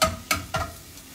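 Rosemary and garlic cooking in oil and butter for oven potatoes, with a steady sizzle, three bright stirring scrapes close by, and no talk.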